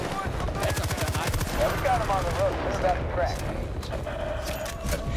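Rapid automatic gunfire in a video game, bursts of fast repeated shots running through the whole stretch under laughing, chatty commentary from players.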